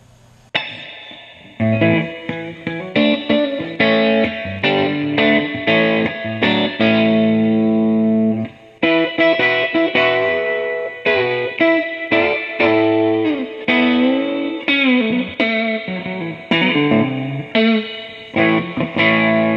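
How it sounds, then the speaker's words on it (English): Electric guitar played through a Fender Blues Junior amp with its repaired reverb working, a loud, continuous run of distorted chords and notes with a reverberant tail and a brief pause midway. "you can hear I got the reverb working on this"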